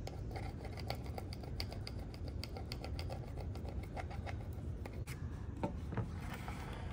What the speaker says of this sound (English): Just using a squeegee to get it down.